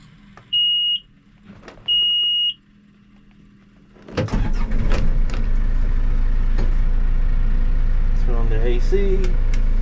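John Deere 410G backhoe engine starting inside the cab: two short electronic beeps, then the diesel catches at once and settles into a loud, steady rumble with faint voices.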